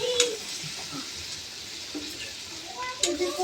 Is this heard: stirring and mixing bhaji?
yes